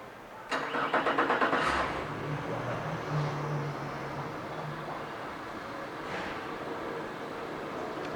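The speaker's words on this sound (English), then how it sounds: "We'll go ahead and fire it up here." A 2014 Yamaha T50LB four-stroke outboard boat motor cranks and catches, revving briefly before settling into a steady, rumbling idle.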